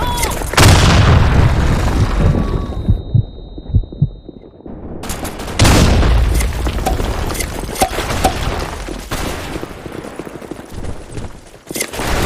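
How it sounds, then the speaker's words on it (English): Loud explosions from an in-game grenade boom out amid dense bursts of gunfire in a chaotic battle scene. A sharp gap of near silence separates two heavy blasts, and voices shout in the clip. "Fire in the hole! Grenade!"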